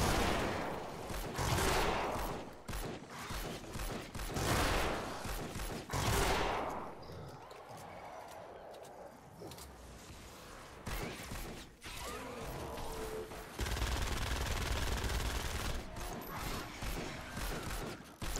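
Enemy gunfire in the Fortnite: Save the World shooter game: a series of loud, dense bursts of shots early on, then a quieter stretch with mechanical clanks and creaks, and a steady roar of fire near the end.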